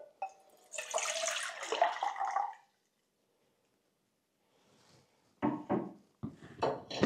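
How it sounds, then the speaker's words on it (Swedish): Water is poured into a camping pot, a splashing stream for about two seconds that stops, followed after a quiet pause by a few sharp knocks and handling sounds up close. "jag ska göra är att hälla upp 500 milliliter vatten i min kastrull"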